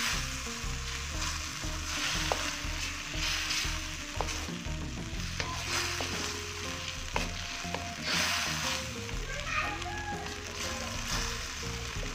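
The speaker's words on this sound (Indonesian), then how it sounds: "Kemudian kita masukkan teri basahnya. Kita aduk pelan-pelan." Wet anchovies fry in a pan under slow stirring, with a loud, continuous close sizzle and repeated scraping and clinking of the utensil against the pan, with no voices heard.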